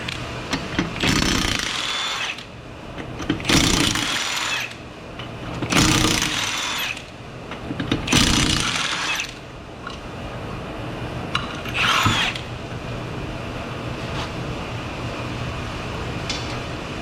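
A power tool works the four 21mm lug nuts off a Nissan Versa wheel with repeated rough, rattling bursts about two seconds apart. The bursts fade into a quieter, steady mechanical grind.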